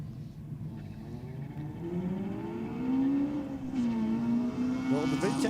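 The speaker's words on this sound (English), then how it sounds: "Sounds like a nice, healthy little VTEC, doesn't it?" A Honda Civic VTEC engine accelerating down the Sydney Dragway at a drag race, its rising tone climbing steadily and holding high, heard from a distance.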